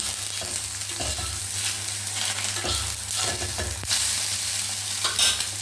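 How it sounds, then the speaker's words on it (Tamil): Onions sauté in oil for a tomato omelette gravy, giving a steady sizzle with repeated spoon stirs and scrapes against the pan, close and fairly loud. "வெங்காயம் வதங்கிட்டுருக்கு."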